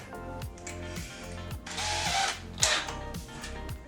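A power drill drives a screw into the fence of a table-saw sled, its motor whirring in short repeated pulses with the ratcheting clutch and screw biting into wood, fairly close and without talk.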